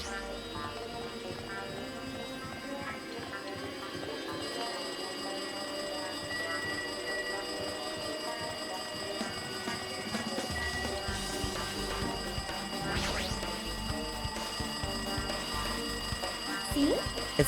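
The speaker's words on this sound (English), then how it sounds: "It looks like the phone is ringing." A telephone rings in the Danganronpa 2 video game, a steady buzzing ring that continues through the clip, moderately loud over game background sounds.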